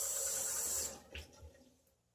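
Tap water running steadily into a sink for rinsing after a shave, close and soft, then cutting off abruptly, followed by a few faint splashes and drips that fade out.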